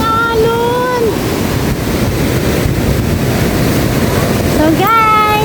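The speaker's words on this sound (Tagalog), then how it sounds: "Grabing alon." Big surf at the Baler, Aurora surfing area, with a loud, steady roar of crashing waves and wind noise on the microphone, and a person talking briefly at the beginning and the end.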